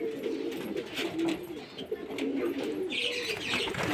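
Pet pigeons coo just after their bath, a steady run of low, throaty calls close by with a few brighter chirps mixed in.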